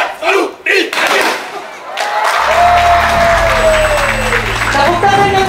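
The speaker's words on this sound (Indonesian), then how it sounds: "Tepuk tangan yang meriah para tamu undangan." Invited guests at the opening ceremony of a paskibra (flag-raising troop) competition in Aceh Timur, a loud crowd cheering and clapping. Shouting comes first, then a sustained roar with a whistle-like tone running over it.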